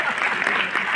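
A seated crowd claps briefly at a success celebration event in Delhi, a short burst of dense applause.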